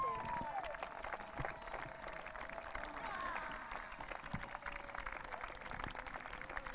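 A crowd at a para-football European Championships awards ceremony applauds the runners-up England squad, a steady spread of clapping at moderate distance with faint voices and a tone underneath.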